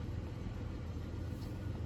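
A car engine idling rough during an injector power balance test run from a scan tool, a low, steady, faint rumble heard alone.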